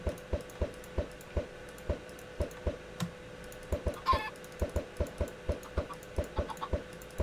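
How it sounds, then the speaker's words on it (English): In Minecraft, eggs are thrown into a chicken pen to hatch chickens: a quick run of soft, evenly spaced popping clicks, with a short burst of clucking in the middle and no talking. "I'm going to take all of these eggs and hope to spawn some chickens"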